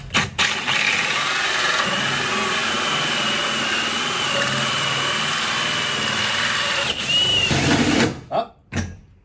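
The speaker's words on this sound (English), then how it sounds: "So I decided to just take a hole saw and punch around it and just take a little core sample out of it" A power drill driving a hole saw through a truck floor around a bolt stud, a loud, steady high-pitched whine and grinding held for about eight seconds before spinning down and stopping.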